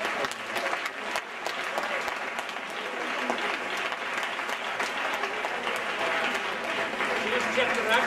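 A crowd applauds a firefighter at a closing ceremony, dense steady clapping sustained at an even level for the whole stretch, with some voices mixed in.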